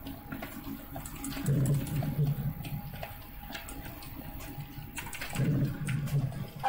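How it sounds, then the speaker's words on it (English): Birds coo and flutter as they land on a player in the survival video game The Forest, two soft bursts of low cooing over a faint watery background, moderately quiet. "These birds are landing on me."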